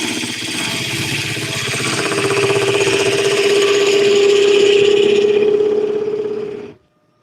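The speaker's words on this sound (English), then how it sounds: "Still working on my technique with a bolt gouge" Wood spinning on a lathe is cut with a bolt gouge, a steady close scraping and whirring hum that slowly swells in loudness and then stops sharply near the end, with no voices.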